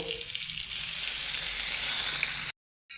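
Finely chopped onion, tomato and green chilli sauté in a pan for hotel-style paneer lababdar, giving a loud, steady broadband sizzle that runs continuously for a few seconds before cutting off abruptly.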